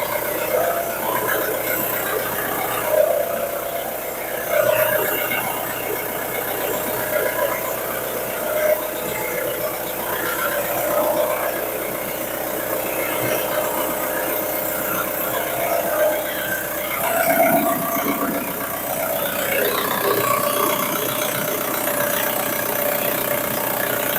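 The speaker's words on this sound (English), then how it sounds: "So the engine started." A car engine idles steadily after an oil and filter change, a continuous close mechanical hum with a few faint knocks and small bumps of surrounding noise.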